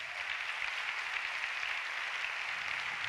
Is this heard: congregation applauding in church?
yes